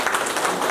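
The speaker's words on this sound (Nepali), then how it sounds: "ताली" Brief burst of crowd applause at a ceremony of former soldiers, a dense wash of many hands clapping, fairly steady and moderately loud throughout.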